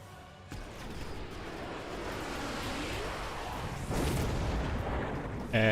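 Explosions in the video game Mechabellum, including exploding rhinos against shielded units, rumble as a continuous wash of booms and blasts, with a louder burst near the end.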